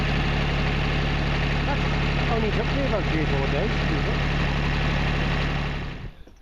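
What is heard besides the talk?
Bobcat engine running with improvised throttle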